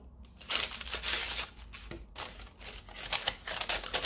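Small packaging bags from an Etsy scrapbooking order being opened up close, with a crisp run of crinkling and tearing bursts that rise and fall over a few seconds and no talking.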